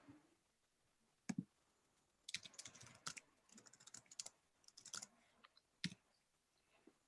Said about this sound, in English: let me type like this